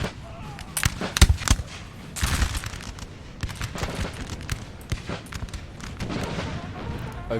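Artillery and massed musket fire in Napoleon Total War, recreating the 1800 Battle of Hohenlinden: sharp booms and cracks erupt irregularly over a continuous battle rumble, loud and close, with a voice talking over parts of it.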